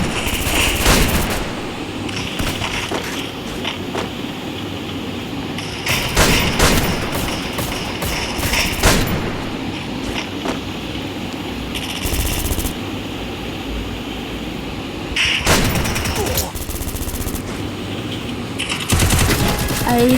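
A double-barrelled shotgun fires in the video game Free Fire, loud blasts and bursts of gunfire recurring at intervals over steady in-game background noise.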